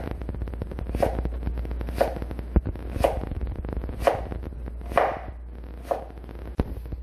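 A knife slices through raw breadfruit on a board, six evenly spaced crisp cutting strokes about a second apart, each a short scraping crunch, close and fairly quiet with soft handling sounds between.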